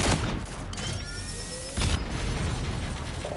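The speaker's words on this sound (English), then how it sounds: "I'm addicted to doing the charge shot." Charged shot from the legendary G-Rail weapon in a video game, a dense burst of crackling gunfire with a mechanical whir, then a second loud blast near the end, all close and loud.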